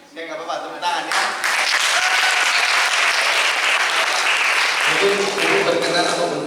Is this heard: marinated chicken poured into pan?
no